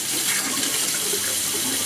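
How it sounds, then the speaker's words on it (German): A household water tap runs with a steady, loud hiss of rushing water, a faucet said to make strange noises when turned on, heard up close and continuous. "unser Wasserhahn macht seit gestern irgendwie so komische Geräusche"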